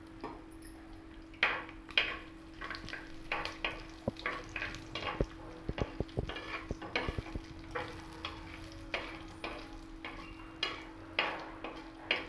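Crushed dried red chillies frying in hot oil with spices for a ripe ivy gourd chutney: steady soft sizzling with frequent sharp pops and ladle stirring clinks, close and fairly quiet, no talking.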